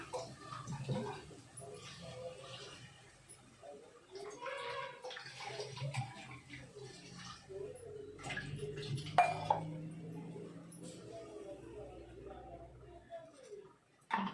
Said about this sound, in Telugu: వాటర్ 2 గ్లాసులు వాటర్ పోస్తున్నా